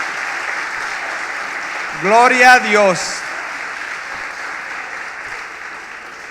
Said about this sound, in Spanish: ¿Por qué no les damos un aplauso?